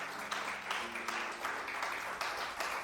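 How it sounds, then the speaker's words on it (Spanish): A church congregation at a Sunday service claps in a steady rhythmic beat, roughly two claps per second, a full, roomy sound from many hands together. "Denle un aplauso fuerte a Cristo."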